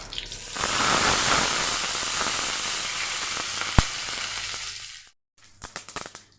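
Whole spices (dry red chilli, bay leaf, black mustard seeds) hit a dry pan for chutney and give off a dense, steady crackling sizzle with one sharp pop near the end, then the noise cuts out into scattered small crackles.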